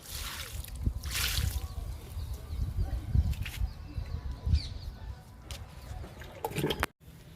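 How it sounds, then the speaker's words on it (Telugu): Liquid fertilizer pours from a container onto potted garden plants, a steady watery splashing and trickling that runs almost unbroken for several seconds before cutting off near the end. "కనకాంబరం మొక్కలకి ఇచ్చేద్దాము లిక్విడ్ని."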